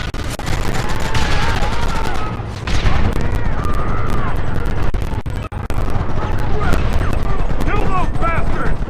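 Gunfire rattles in Red Dead Redemption, a close, loud fusillade of rapid shots and booms under shouted voices and whinnying horses, briefly pausing before the shooting resumes.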